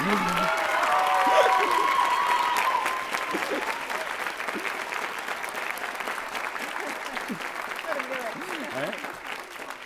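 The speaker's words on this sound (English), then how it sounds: "You can clap if you want to, they're awesome" Commencement audience applauding two retiring faculty members, loud clapping at first that eases to a softer, steady patter, with some cheering and voices rising through it.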